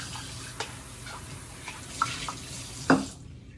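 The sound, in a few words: rinsing flour-covered measuring cups under running tap water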